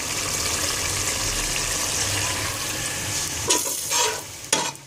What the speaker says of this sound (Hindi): मसाले में आप बार बार यानी कि इसको भूनते रहिए, चम्मच हिलाते रहिएगा